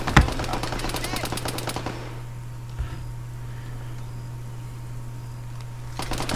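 Bursts of machine gun fire in the Arma 3 video game open the clip, rapid close rounds followed by quieter combat ambience and a lone shot, with a brief burst returning at the end.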